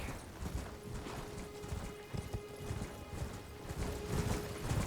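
A horse's hooves clip-clop in a quick, steady rhythm in the video game Elden Ring, joined by faint mechanical clinks, moderately loud and close.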